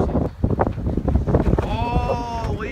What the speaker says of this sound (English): Man, that is freaking crazy wind out here.